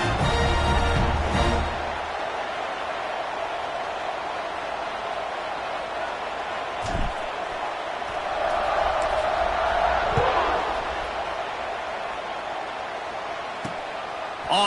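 A college football stadium crowd, with Tulane playing, roars before and through a kickoff, a broad distant swell of cheering with a few sharp thumps, rising in the middle and fading again.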